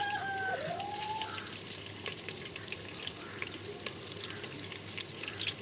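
Ajwain, dried red chillies, bay leaf and chopped garlic hit hot oil for frying potatoes, giving a steady hissing sizzle with a brief tonal squeal at the start and no talk.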